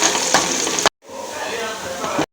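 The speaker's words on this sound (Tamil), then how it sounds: "நல்லா ப்ரௌன் ஆகிற வரைக்கும் வதக்கிக்கலாம்" Mustard seeds and small chopped shallots fry in coconut oil for a Kerala-style sardine curry, giving a close, steady sizzle that cuts out briefly, then resumes just as strongly.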